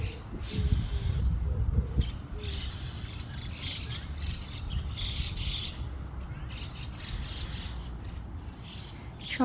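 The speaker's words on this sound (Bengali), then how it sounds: "গ্রামের যে একটা পরিবেশ সেটার কথা মনে পড়ে যায় পাখির এই" Morning birdsong fills a park in Japan, chirps and squawks recurring throughout over a constant low rumble of ambient noise, moderately distant and steady.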